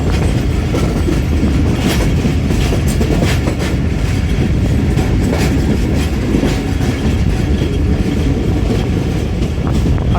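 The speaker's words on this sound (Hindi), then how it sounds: "ढोंकल रेलवे स्टेशन से पास हो रही है ट्रेन" A train runs past Dhonkal railway station on the Rawalpindi to Lahore line, a loud continuous rumble of wheels with steady clickety-clack filling the whole stretch, close by and with no voices.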